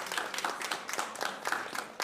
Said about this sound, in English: let's give a round of applause to our wonderful speakers and Sarah, who joined us online